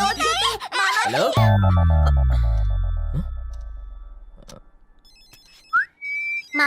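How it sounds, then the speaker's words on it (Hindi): A phone ringtone chimes in a Hindi-dubbed film scene, with a melodic electronic tone sounding amid dramatic music and effects, and a voice speaks near the end. "मामा जी फोन।"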